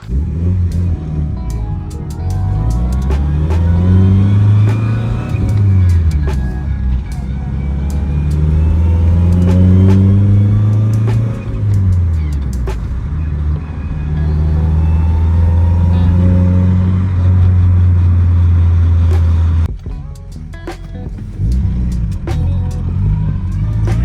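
A running TDI diesel car engine, reported to have blown up, drones loudly and up close with rising and falling revs and steady idling stretches, ending in a brief drop before it carries on.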